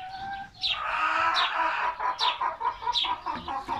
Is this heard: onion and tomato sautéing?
no